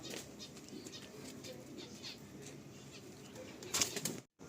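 Pigeons in a loft flap their wings nearby in a quiet burst of fluttering, with faint coos and rustling around it.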